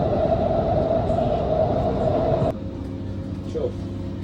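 A steady rumble and hum fills the cabin of a driverless Doha metro train moving at speed, with the tone dropping suddenly partway through as the running noise changes.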